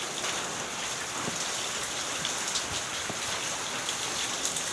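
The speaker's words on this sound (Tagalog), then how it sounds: "Umuulan." Steady rain falling on a surface during a June downpour, a dense, even hiss with scattered droplet taps, continuous and close, with no voices.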